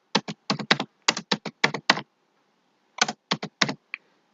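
Someone types a delivery address for an envelope in Microsoft Word on a computer keyboard: close, crisp key clicks in quick bursts, a pause of about a second, then a few more keystrokes.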